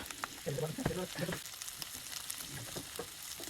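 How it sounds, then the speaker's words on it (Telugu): Chicken liver pieces sizzle and fry steadily in a hot pan, a continuous close crackle with a few louder pops, with no talking. "తర్వాత మనం కట్ చేసి పెట్టుకున్న లివర్ పీసెస్ మొత్తం వేసి నీట్గా వేయించుకోండి."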